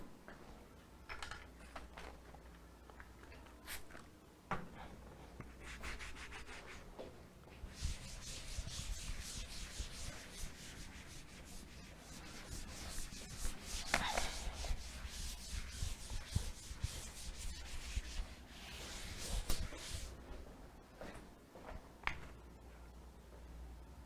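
A teacher wipes a classroom board clean, making soft repeated rubbing strokes in uneven bursts with faint taps and knocks. The sound is quiet and near, with no talk.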